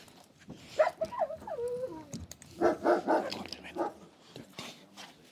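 A police dog in training for manhunts whimpers in rising and falling whines, then lets out a quick run of sharp barks, moderately close with no voices.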